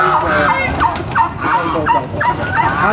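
Turkeys and chickens on a poultry farm, with repeated loud gobbling calls arriving in a steady rhythm of about one every half second, close by, over a busy background of clucking fowl.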